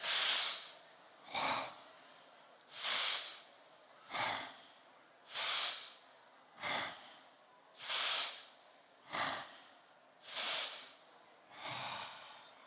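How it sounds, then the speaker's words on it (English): Five deep breathing-exercise breaths, each a slow loud inhale through the nose and a forceful exhale, close to the microphone with short pauses between and no talking. "we're gonna take a deep breath in, and we're gonna start again"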